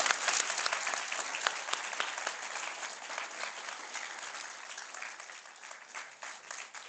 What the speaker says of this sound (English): if we round of applause to Ronan for coming over